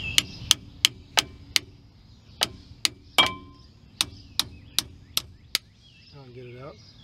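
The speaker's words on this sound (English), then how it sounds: "hammer it a little bit." Sharp metallic hammer taps on a cotter key in the front brake assembly of a Ford F150, about a dozen evenly spaced strikes close up, followed by a brief squeaky scrape at the end.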